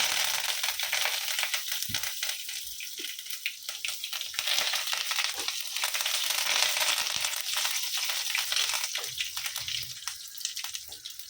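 Curry leaves hit hot oil already crackling with mustard seeds, giving a loud, steady frying sizzle with dense spluttering pops throughout.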